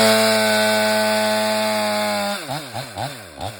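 A chainsaw boring a felling cut into a tree in winter runs at a loud, steady high rev, then drops into a few rhythmic surging revs as the cut is worked.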